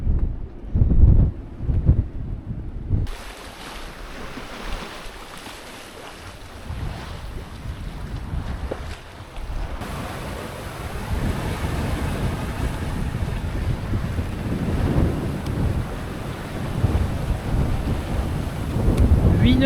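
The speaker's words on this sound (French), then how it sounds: "On va faire un départ à la voile." Sailboat setting off under sail off the Greek islands, with a broad roar of wind buffeting the microphone and water rushing along the hull, rising and continuous after a few brief knocks at the start.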